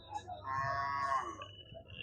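Cattle at the Melapalayam livestock market in Tirunelveli district, with one cow giving a drawn-out moo over a background of faint market murmur and talk.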